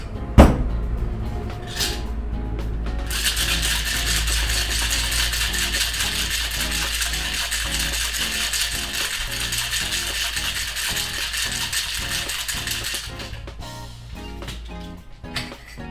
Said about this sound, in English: we're going to shake the cocktail for 12 seconds.